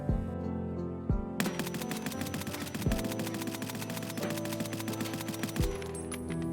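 Full-auto gunfire in Escape from Tarkov rattles in rapid, evenly spaced bursts, loud and close, with a few heavier thumps between the strings of shots.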